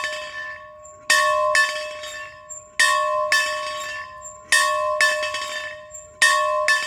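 A single bell rings out in a regular series of bright, ringing strikes, often struck twice in quick succession, each tone decaying between hits, clear and close with no voices.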